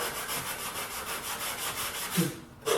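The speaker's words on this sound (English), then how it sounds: "I'm going to use a foam sanding block" Steady back-and-forth rubbing of a foam sanding block on a wooden handle, a soft rhythmic scratching close by that stops briefly near the end.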